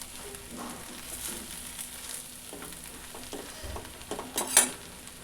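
A spoon stirs ugani, a puffed rice snack, in a pan after lemon is squeezed in, making soft rustling scrapes and a faint sizzle that build to a few louder knocks near the end, with no talking.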